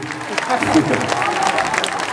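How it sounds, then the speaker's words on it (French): Audience applause at a concert in Alès, a dense, continuous patter of clapping from a crowd with voices mixed in underneath. "c'est la gauche qui applaudit"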